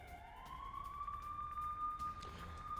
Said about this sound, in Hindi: और अभी भी क्या श्रीनगर में एयर रेड सायरन बज रहे हैं?